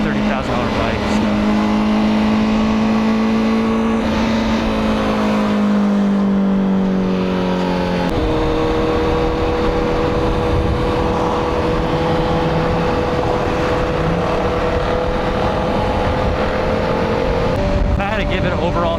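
A Honda CBR1000RR-R Fireblade motorcycle engine drones steadily throughout while riding, its pitch rising and falling with gear changes, loud and close, with wind noise mixed in.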